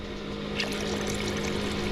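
Water pours steadily into a gumbo pot while cooking in an RV, giving a continuous rushing, trickling wash from start to finish with no voices over it.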